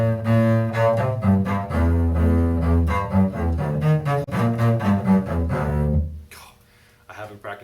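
A double bass played again on a second attempt at a simple beginner song, a steady sequence of low sustained notes for about six seconds before fading to near silence with a faint sound at the end.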